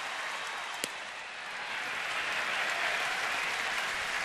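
A baseball crowd of about 35,000 roars at a Mets at Nationals night game in Washington with a playoff feel, a dense, loud, steady wash of cheering and applause that swells slightly toward the end.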